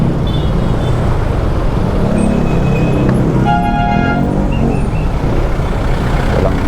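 Dense road traffic at Bicutan Interchange, a steady roar of cars, trucks and buses with a few short horn toots cutting through near the middle, heard continuously with no talking.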